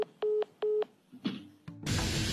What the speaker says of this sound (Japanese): ひろゆきの追求にたまらず電話を切った